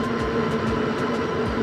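The 750 watt hub motor of an Aniioki AQ177 Pro Max eBike whines steadily while riding along a trail, a continuous droning hum with faint rattles and no talking.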